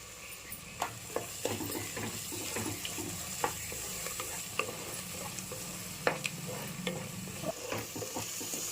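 Biryani masala with chilli powder fries and is stirred in a pan, a steady close sizzle broken by frequent sharp scraping knocks of the spoon, with no talking.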